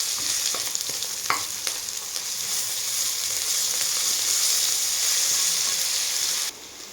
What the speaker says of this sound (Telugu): అల్లం వెల్లుల్లి వేసుకొని కొంచెం వేయించుకోవాలండి